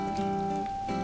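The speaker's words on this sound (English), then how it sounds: "She's just standing in the rain." Steady rain pours down in the video game Animal Crossing New Horizons, a continuous close patter layered over soft game music with sustained tones, heard alone without talk for a brief moment.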